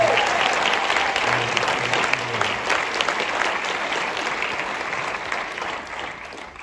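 An audience at a film Q&A claps for the movie's editor, a steady close round of applause that slowly thins and fades, with no talk over it.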